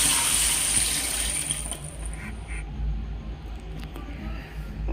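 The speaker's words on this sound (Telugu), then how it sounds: "నేను ఇందులో 4 గ్లాసెస్ వాటర్ పోసాను" Water pouring into a home-style chicken dum biryani pot, a steady rushing gush that fills the first half and then softens into a lower bubbling wash with faint knocks, close and fairly loud.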